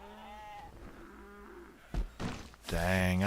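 Sheep bleating in the Rimworld video game, a few short wavering bleats with a couple of soft thumps between them, heard over someone talking.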